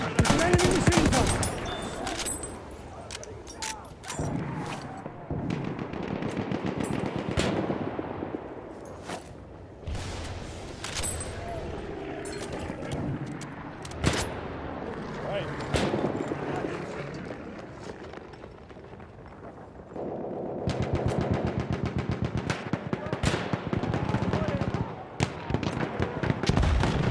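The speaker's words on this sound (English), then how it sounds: "There's an enemy machine gun!" An enemy machine gun fires in the World War I shooter game Battlefield 1, rapid bursts of rattling gunfire with crackling volleys and distant explosions, loud and continuous with brief lulls, and shouted voices in between.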